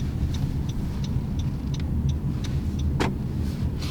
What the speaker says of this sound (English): See, now we're travelling away in electric,